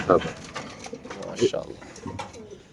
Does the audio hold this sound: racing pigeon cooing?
yes